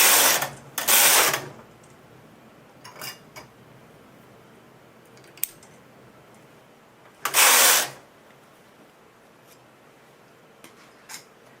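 A knitting machine carriage runs across additional rows, giving two loud mechanical whooshing passes near the start and one in the middle, with faint clicks in between and no talk.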